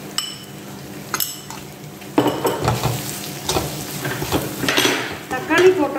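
Tomatoes with salt cooking in a pan for prawn thokku, sizzling and frying with repeated stirring scrapes and light clinks of a utensil against the pan, close and moderately loud; no talking.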